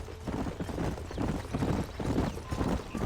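Horse hooves clip-clopping in Red Dead Redemption, a steady muffled trotting rhythm over a low rumbling backdrop, continuous and moderately close, with no clear talk.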